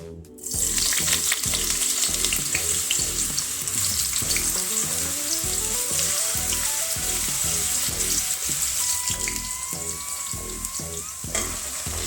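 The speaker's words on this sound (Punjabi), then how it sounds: "ਆਇਲ ਗਰਮ ਹੋ ਗਿਆ ਹੁਣ ਆਪਾਂ ਸਬਜ਼ੀਆਂ ਪਾ ਦਵਾਂਗੇ ਸਭ ਤੋਂ ਪਹਿਲਾਂ ਆਪਾਂ ਪਹਿਲੇ ਆਲੂ ਪਾ ਦਵਾਂਗੇ" Potatoes dropped into hot mustard oil for a mixed vegetable dish burst into a loud, dense sizzle that holds steady for the whole stretch, close by with no talking.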